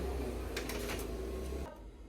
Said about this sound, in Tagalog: So, marami po pong mga Xerox machine na mas mabilis din po sila.